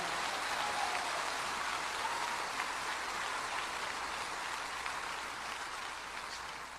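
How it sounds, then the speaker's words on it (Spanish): A church congregation applauds in praise, making a continuous, even wash of many hands clapping that holds steady and fairly subdued throughout, with no voices on top. "Dele un aplauso de gloria al Señor."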